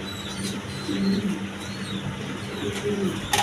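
A male beauty pigeon kept for sale coos in low, repeated throaty rolls, close by, over a busy background hum with a few sharp clicks.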